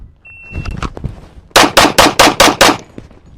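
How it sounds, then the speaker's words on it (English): Kimber Warrior 1911 .45 pistol fired in a rapid string of about six loud, sharp shots at even spacing, preceded by quieter handling noises and a brief tone. "I usually shoot to the sights, so when the sight settles, I'll try to pull the trigger again"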